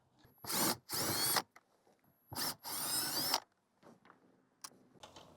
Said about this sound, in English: remove the 4 10mm bolts that's holding the radio in place